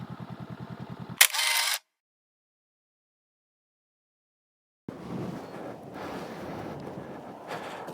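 A single camera shutter clicks once, close and sharp, while photographing a motorbike, followed by a few seconds of silence and then steady wind noise buffeting the microphone.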